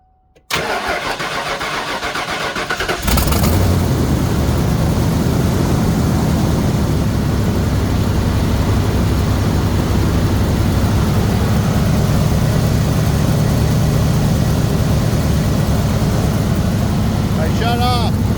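A 1997 Ford car engine cranks briefly, then catches and settles into a loud, steady idle that runs on unbroken for the remaining fifteen seconds or so, close to the microphone.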